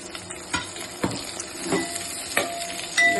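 Medium-cut onions with curry leaves frying in a pan while being stirred, a light sizzle broken by several scraping stirs and soft clinks of a utensil, close up with no voices.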